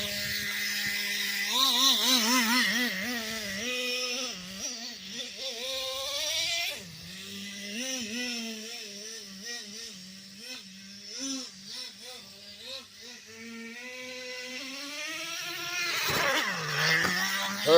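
A nitro-powered Traxxas Revo RC truck drives with its small engine buzzing and revving in wavering pitch, shifting gears as the pitch climbs and drops repeatedly, moderately near, with a voice briefly over it.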